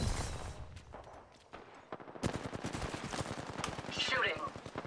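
Rapid bursts of automatic gunfire ring out in the battle-royale video game Apex Legends, sharp repeated shots stuttering on and off with a brief pause, loud and close, alongside game sound effects and faint talk.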